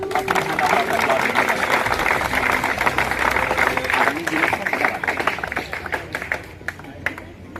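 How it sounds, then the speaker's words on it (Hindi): Applause from a school audience welcoming a guest at a Van Mahotsav environmental celebration at St. Xavier's Senior Secondary School, with dense clapping mixed with crowd noise that gradually thins toward the end, under some voices. "उनका तालियों के साथ स्वागत करें"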